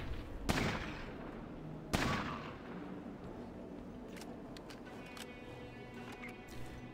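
A grenade explodes in the game Fallout Tactics, with two sharp loud blasts about a second and a half apart, each fading quickly into a low rumbling game background and faint clicks.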